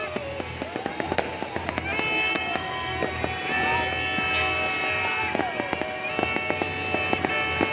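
New Year fireworks burst over Metro Manila in a steady stream of sharp cracks and booms, some near and many distant, layered over a constant crowd and city rumble.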